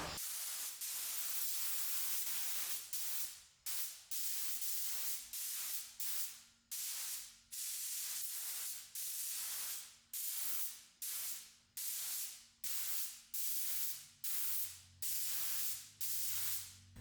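Spray gun laying a heavy first coat of paint on a Turbo M50-powered E30 car body, loud hissing bursts in a steady rhythm of repeated passes separated by short breaks.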